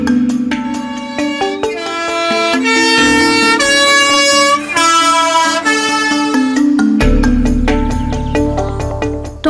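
Swiss post bus sounding its distinctive multi-tone musical horn in a bright, loud repeated melody through the mountain valleys, followed by the low rumble of the bus engine pulling away.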